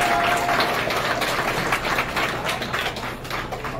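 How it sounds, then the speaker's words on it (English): Wedding guests applaud the newly united couple, a dense crowd of clapping that starts loud and close and slowly thins and fades over a few seconds. "Everybody give them a round of applause."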